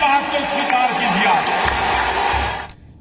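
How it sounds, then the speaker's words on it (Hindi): A large rally audience breaks into loud applause and cheering, a dense roar of claps and shouts that holds steady and then cuts off abruptly near the end. "जोर से तालियों के साथ मेरी इस बात को स्वीकार कीजिए।"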